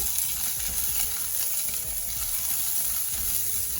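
Ginger and whole broken gooseberries sautéing in oil in a pan, a steady close sizzle with faint stirring underneath, continuous throughout.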